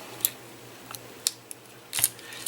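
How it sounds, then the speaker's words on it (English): Scissors snip through orange vinyl pieces in a few sharp, close cuts spaced about a second apart, ending with a quicker double snip, over a quiet background. "we're just going to cut a few of these orange ones"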